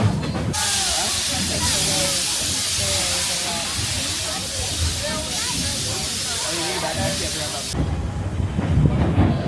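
A train on the Oregon Coast Scenic Railroad passes along the coast, a loud steady rushing hiss and rumble with wheel noise running for several seconds, and voices are heard under it.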